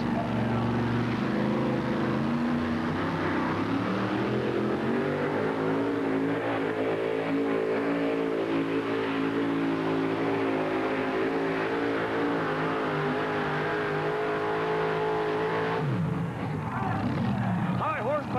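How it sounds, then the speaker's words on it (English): A two-wheel drive pulling tractor at a 1991 NTPA tractor pull in Rock Springs holds a loud, sustained engine roar that rises in pitch through the run and then drops away near the end, with an announcer talking over it. "LD Nation takes over for his son Brent in this, the first hook of the two-wheel drive class"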